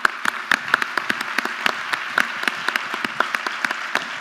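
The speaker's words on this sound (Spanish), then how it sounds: "Bienvenida, Lorena, te recibimos con un fuerte aplauso." An audience at a science outreach event applauds, with many overlapping hand claps forming a steady, fairly loud wash and sharp individual claps standing out throughout.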